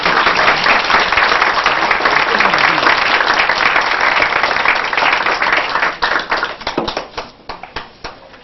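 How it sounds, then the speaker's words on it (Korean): A congregation applauds during a 1996 church service installing deacons and deaconesses, loud dense clapping that thins into scattered individual claps over the final seconds. "박수."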